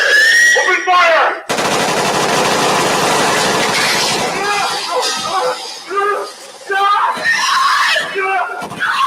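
Video game gunfire from Backrooms - Stalker: a loud sustained burst of rapid automatic shots, with shouting and excited voices before and after the firing, all close and harsh.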